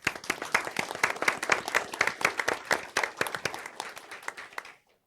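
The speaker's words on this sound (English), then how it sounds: "All right, applause." Applause at a county board of commissioners meeting for an employee award, a small group clapping in distinct, uneven claps that build and then taper off to silence near the end.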